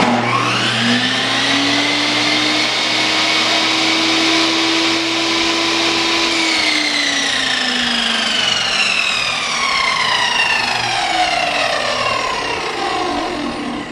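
A power saw clamped to a workbench during a gun-room bench build whines up to speed, holds a loud, steady motor tone, then winds back down toward the end, with no talking.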